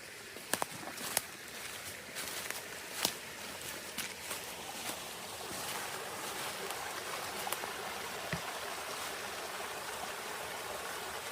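A stream with small waterfalls along a mountain trail on Brown's Mountain gives a steady, moderate rushing wash throughout, with occasional brief clicks and footfall-like taps early on.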